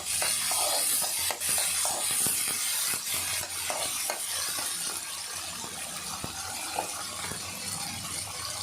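Spices and ginger garlic paste fry in a pan while dahi bhindi curry is being made, giving a steady close sizzle with light stirring scrapes and small clinks throughout.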